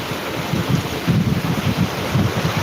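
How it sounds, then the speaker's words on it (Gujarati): Heavy rain pours outdoors in Jamkandorna as a dense, steady roaring wash, with low gusty rumbles of wind buffeting the microphone throughout. "અમારે જામ કરોડામાં વરસાદ ચાલુ છે અત્યારે"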